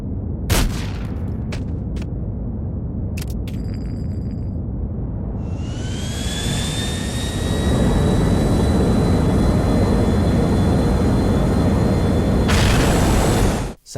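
A plane blows up in GTA IV: The Ballad of Gay Tony: sharp bursts of gunfire and booms give way to a loud, sustained jet engine roar that builds and then cuts off abruptly.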